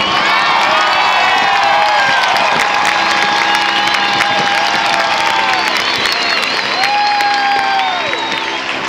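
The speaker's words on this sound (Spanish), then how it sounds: "le enviamos un saludo y un fuerte aplauso" A huge outdoor crowd at a papal gathering on Copacabana beach in Rio applauds and cheers, with whoops and shouts rising over steady clapping, loud and sustained.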